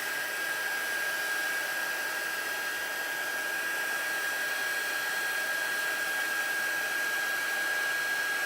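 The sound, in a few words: heat embossing tool melting embossing powder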